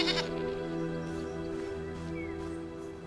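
A goat in the survival game Enshrouded bleats, a steady, close, drawn-out call that holds for about three seconds without a break.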